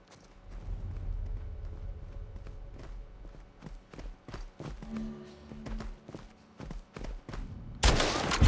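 Gunfire aimed at a wild boar in The Last of Us Part II, heard as a series of sharp, distinct shots spaced through the clip over rustling movement, ending in a louder burst of noise.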